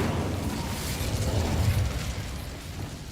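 Incendio fire spell in Hogwarts Legacy: a loud rushing, crackling burst with a low roaring swell that rises and then tapers off, heard alone without talk.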